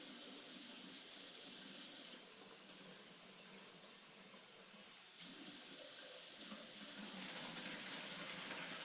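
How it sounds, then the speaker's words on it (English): Cooked cranberries are drained in a kitchen sink, giving a steady rushing hiss of running water that dips quieter for a few seconds before surging back. "Our cranberries are ready. I'm going to go ahead and drain them."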